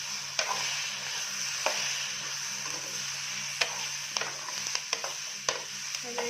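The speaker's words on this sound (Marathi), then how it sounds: "त्याला चांगलं हलवून घ्यायचं." Chopped tomato and onion frying in a pan, a soft steady sizzle with irregular sharp scrapes and knocks of a spoon stirring, close and moderately quiet, under a low background hum.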